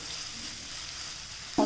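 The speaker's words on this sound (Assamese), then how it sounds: "অলপ সেকেন্ড এনেকৈ মছলাখিনি ভাজি লওঁ" Masala sizzles softly in hot oil for a bamboo shoot dish, a faint continuous frying hiss close by, ending in a short louder knock or clatter.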